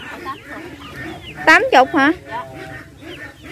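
Chickens for sale at a Vietnamese market give a short burst of loud clucks and squawks, with vendor and customer talking over the background.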